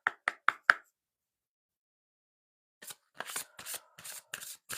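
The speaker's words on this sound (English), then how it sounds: "we're going to start shuffling this deck" A tarot card deck being shuffled gives a few quick crisp riffling snaps, then silence, then a longer run of papery flutters and taps, close and moderately loud, with no talking.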